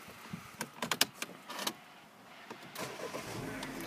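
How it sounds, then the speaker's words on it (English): A used car with a single worn key is started: a run of sharp clicks and relay ticks, then the engine catches and settles into a steady, moderately loud idle. "Starting the vehicle up."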